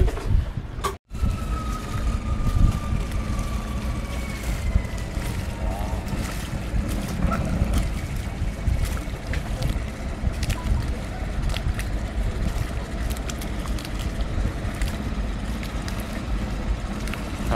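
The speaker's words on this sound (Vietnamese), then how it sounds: "Giờ mình chuẩn bị đón thêm một ghe của anh Hùng và anh Thông nha các bạn" A small wooden boat on the Mekong River runs with a steady low engine drone under wind and water noise, fairly close and continuous, with a brief dropout near the start.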